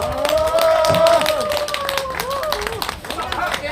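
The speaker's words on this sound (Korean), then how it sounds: "여러분 따뜻한 박수 한번 부탁드릴게요" Warm applause from an outdoor audience at Banwol Lake Park greets a rookie singer, a steady patter of clapping mixed with crowd noise, sustained tones and a voice talking over it.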